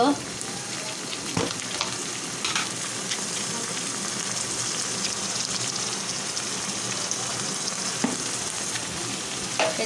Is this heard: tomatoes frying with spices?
yes